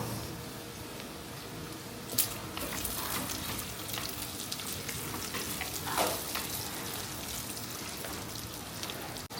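Garlic and onions fry in a hot pan after pork has been cooked in it, making a steady close sizzle with a few louder crackles and stirring scrapes, and no talking.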